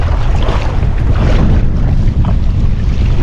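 Heavy wind buffets the microphone of a solo kayaker ferrying across a bay toward Toba Inlet, a loud, unbroken roar of gusts mixed with waves and water rushing past the boat.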